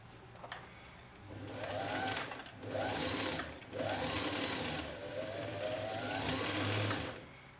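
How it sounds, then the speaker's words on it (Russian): A 1965 Singer 338 sewing machine, built in Clydebank, Scotland, runs its bobbin winder with a steady whirring motor hum that rises and falls in pitch, broken by a few sharp clicks. "Так включается моталка."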